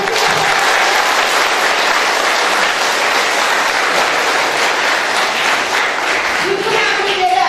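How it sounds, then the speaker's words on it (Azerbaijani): Sustained loud applause from a crowd at a Victory Day commemoration event in Salyan, a dense, even wash of clapping lasting the whole stretch with voices mixed in. "bir alqış gəlsin, zəfər"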